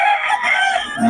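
A young rooster, a stag, crows close and loud in one strained, wavering call that fills the short stretch, alone without talk.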